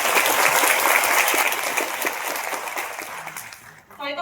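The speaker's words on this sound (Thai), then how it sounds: "ขอเสียงปรบมือให้ทั้งสี่ท่านกันค่ะ" A crowd claps loudly and continuously, the applause slowly thinning and fading out before a voice begins speaking at the very end.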